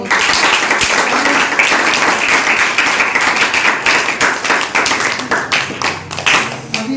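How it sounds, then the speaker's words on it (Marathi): Loud, continuous applause from a crowd at a retirement farewell ceremony held in a divisional office, dense rapid clapping sustained throughout with slight swells near the end. "सुरेश सर त्यांचा पूर्ण परिवार आणि या ठिकाणी जो स्टाफ तिथं काम करतो त्यांच्यासाठी जोरदार टाळ्या वाजवा"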